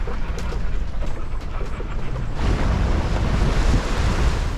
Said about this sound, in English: The sea was getting rougher, creating choppy waves as we closed in near to a quite surreal sight in the middle of the ocean